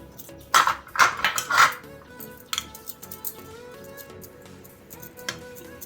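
Metal idli plates clink and clatter as they are handled and set down while being greased with ghee, a cluster of bright clanks early on, then sparse lighter taps.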